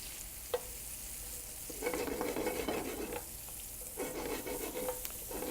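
Butter melting in a pan for a bananas Foster sauce crackles and sizzles in uneven bursts, with a sharp clink at the start and then surges that rise and fade.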